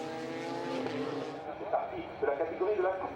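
Touring race cars from the 2005 French Supertourisme FFSA championship, including a Peugeot, roar past in a steady engine drone while a commentator talks over them throughout.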